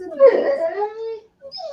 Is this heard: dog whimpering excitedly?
yes